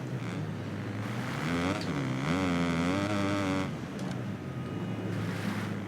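An MX2 motocross bike in the racing game MXGP Pro revs hard over a hill, the engine note climbing and holding a loud, buzzing whine before easing off.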